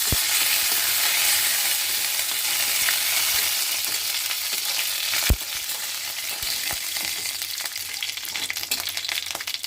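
Hot oil sizzles and crackles steadily as cumin seeds and curry leaves fry for a chutney tempering, with a single sharp clink partway through.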